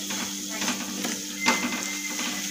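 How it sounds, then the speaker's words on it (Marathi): Spices frying in oil in a pan over a medium gas flame, giving a steady, close hiss and sizzle with a brief clink partway through. "मीडियम गॅसवर आपल्याला हे मसाले तळून घ्यायचा आहे"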